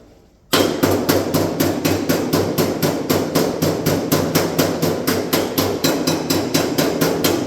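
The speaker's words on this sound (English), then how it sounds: "I'm pushing the metal with the hammer, slapping it towards the hot spot" A hammer strikes hot sheet metal on a 1966 Chevrolet Impala SS quarter panel: rapid, loud metallic blows ring out in a steady fast rhythm after a brief quiet start, each strike sharp and close.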